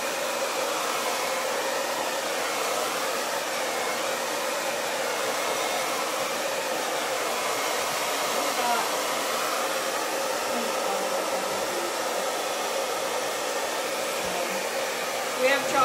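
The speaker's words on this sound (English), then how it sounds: "I think we need some blow drying now." Hair dryer blowing steadily on chalk paint on a small crafted pineapple, a constant close, loud rushing whir that continues unbroken throughout.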